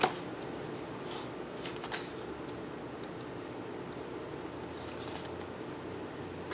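A tarot card slid out of the deck makes a soft, close papery shuffle against faint steady background hiss, with a few light brushing sounds in the first two seconds and again near five seconds.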